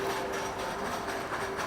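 Continuous ambience inside Zurich's huge main railway station, a steady rolling hum of trains and rail cars with a faint sustained tone, moderate and even throughout with no talking.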